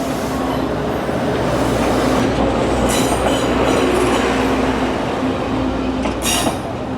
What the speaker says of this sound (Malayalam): ട്രെയിൻ ഇതാ അവിടുന്ന് വരുന്നുണ്ട്.